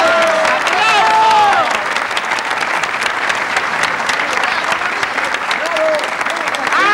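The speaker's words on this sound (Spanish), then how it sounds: "¡Sí, aplausos para él!" A studio audience on a Spanish-language comedy variety show breaks into loud, sustained applause, with cheers and a voice calling out over the dense clapping for the full stretch.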